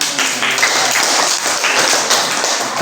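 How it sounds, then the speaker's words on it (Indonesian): A classroom of children clapping their hands together, a loud, close burst of dense, continuous applause with no talking. "Tepuk tangan."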